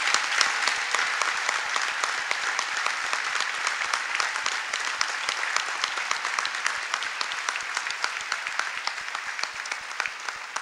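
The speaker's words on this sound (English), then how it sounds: "Please give them a big round of applause" A large banquet audience at the White House Correspondents' Association Dinner gives sustained applause, crisp, dense clapping that stays steady and full for about ten seconds before easing slightly.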